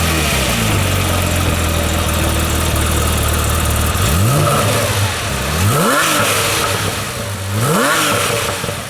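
Sports car engine, an RS with its exhaust valve plug removed, idling steadily and then revving sharply three times in rising and falling sweeps, loud and close with no talking.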